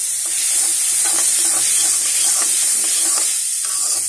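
Noodles with masala, meat and potato stirred and fried in a hot pan, a steady loud sizzle and hiss with repeated scraping stirs running throughout.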